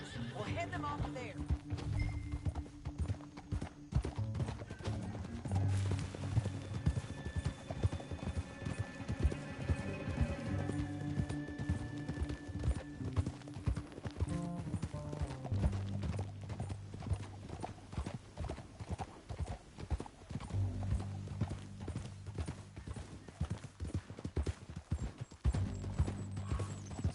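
Horses gallop with steady, rapid hoofbeats and occasional whinnies in Red Dead Redemption 2, under nearly continuous spoken dialogue.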